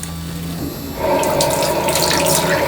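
A bathroom tap runs steadily during a shave with a Gillette ProGlide Power razor, the flow starting softly then gushing louder and constant, close by with no talk.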